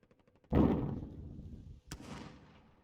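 Gunfire in the Warzone video game: a loud burst of shots erupts and rolls on, then a second sharp crack follows near the end, with no talk over it.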